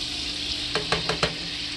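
Hamburger steak patties sizzling in a pan, a steady close hiss of frying fat with four quick soft pops or taps spaced evenly near the middle.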